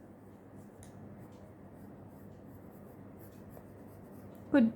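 Pencil drawing a face on paper for a cross-legged sitting figure, heard as a steady soft scratching and rubbing close by, ending in a brief louder scrape.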